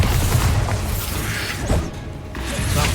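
Bombarda spell blasts in Hogwarts Legacy combat, a dense run of booming, crashing impacts with rattling mechanical debris, loud and close with brief lulls between hits.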